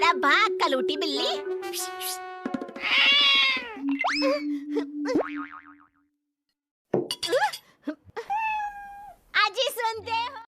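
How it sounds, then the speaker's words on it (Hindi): A cat meows in a children's cartoon, with long, wavering, high-pitched cries and a springy boing-like effect, cartoon voices talking around it, then a short silence before more bright, sliding meows and calls. "अरे भाग कलूटी बिल्ली।"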